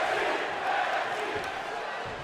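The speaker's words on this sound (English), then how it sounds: "The crowd is electric here in Gainesville, Georgia" Crowd noise fills an indoor wrestling event in Gainesville, Georgia, a steady, loud roar of many voices with cheering and shouting that never lets up.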